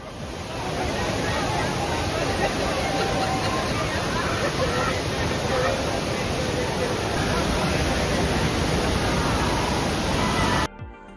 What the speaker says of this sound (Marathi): धबधब्याजवळ पोहोचताच सर्वात प्रथम कानावर पडतो तो पाण्याचा प्रचंड आवाज